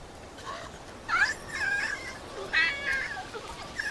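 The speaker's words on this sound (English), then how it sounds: "the scar-faced leader of the bachelors barks angrily at them" Scar-faced leader of a bachelor group of monkeys, from a newly discovered species, gives a few harsh, squealing barks in quick bursts, fairly close and clear against a quiet background.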